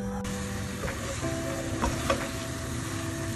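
Rice simmers in water in a pot on the stove for Turkish oven-baked rice pudding, giving a steady close hiss and bubbling sizzle throughout, with a few soft clinks and no talking.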